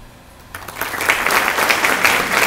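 Audience applause at a distinguished alumni awards ceremony begins abruptly after a quiet moment and swells into steady, loud clapping from a large crowd that continues without talk.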